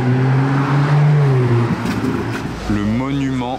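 Ferrari-red safety car driving past on a street in Monaco, a loud low engine drone that shifts in pitch as it goes by, with a person talking over it.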